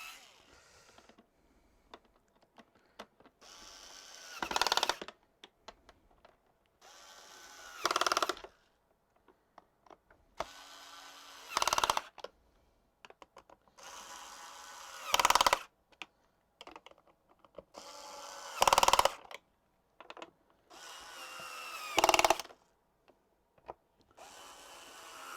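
Screws being tightened on an Electrolux 502 vacuum cleaner with a small power driver, heard as short whirring bursts at regular intervals with quiet clicks and handling noise between them.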